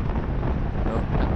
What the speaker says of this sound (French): Comme je vous ai dit, on avait le vent de face.